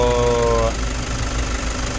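A Toyota HiAce engine with an aircon compressor lock fault runs with a steady, rough, knocking hum; a thin tonal whine rides over it for the first moment and then cuts out, leaving only the low engine rumble.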